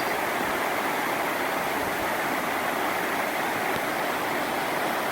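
Cold stream water at an Appalachian Trail ford in Maine rushes steadily over rocks, a loud continuous wash of flowing water close by with nothing else heard.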